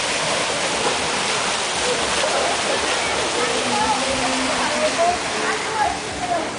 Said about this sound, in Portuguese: Cachoeira, olha a cachoeira.